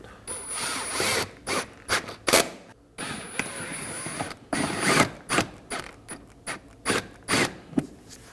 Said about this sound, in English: We're also going to reinstall our T30 screws along the front side of the fender liner.